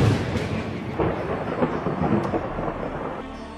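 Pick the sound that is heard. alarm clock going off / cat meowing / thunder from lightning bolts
thunder from lightning bolts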